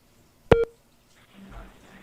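A telephone line tone signals an incoming call during a live radio broadcast, heard as one brief, sharp electronic tone. Faint, murmuring sound follows after a short silence.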